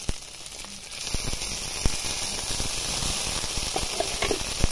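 Spices frying in a pan with chopped tomato, green chili, ginger paste and coriander paste, a loud, close, continuous hissing sizzle with scattered crackles and pops throughout, no talking.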